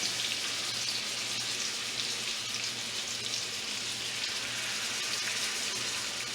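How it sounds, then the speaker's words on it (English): Rib eye steak sears in a very hot pan with sunflower oil, a steady, dense sizzling hiss that holds evenly throughout at close range with no talking. "We're going to go ahead and add our steak to it."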